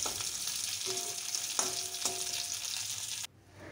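Fish sizzling and frying steadily in hot oil for a fish curry, with a constant crackling hiss and a few faint clinks, close and unbroken until it cuts off abruptly near the end.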